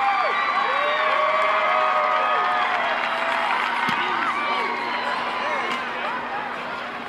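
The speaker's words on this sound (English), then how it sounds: "You can hear the crowd" A stadium crowd roars and cheers continuously around a women's football kick, a dense sustained wall of voices with whoops rising above it, loud and steady before easing slightly toward the end.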